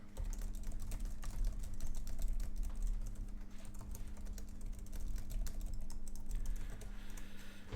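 Steady run of computer keyboard typing, close and continuous, as a comment is entered in Microsoft Word, with no voices.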